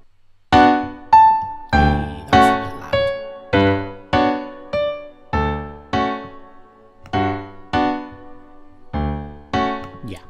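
Piano plays a Markov-generated Satie Gymnopédie from MIDI, a steady sequence of clear, sustained chords and single notes, each struck and ringing out in a slow, even rhythm with no voices.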